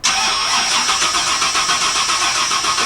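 A flooded Rolls-Royce engine turns over on its starter in a steady, continuous crank with a rhythmic pulse, loud and close, without catching.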